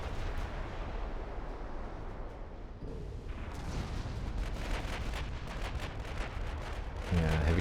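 Naval gunfire in Ultimate Admiral Dreadnoughts as cruisers engage at sea: a steady rumble of distant heavy gun blasts and booming salvos, overlapping in a continuous low roar, with someone talking over it.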